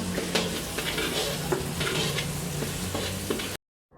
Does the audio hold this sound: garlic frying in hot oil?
yes